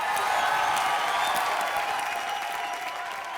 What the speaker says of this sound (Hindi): जोरदार तालियां हो जाए इसकी मौत के लिए